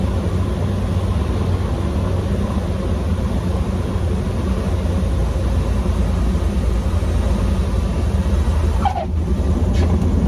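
The engine of a 1975 Cessna 150M Aerobat drones steadily in flight, a constant loud cabin hum with no voices and only a brief faint click near the end.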